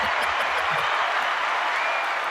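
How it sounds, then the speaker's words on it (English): Applause from a studio or talk-show audience for a Queen-themed wallpaper design by artist Hunt Slonem, a steady dense wash of clapping at moderate level with no voices over it. "Can we have applause, please, for the Queen wallpaper?"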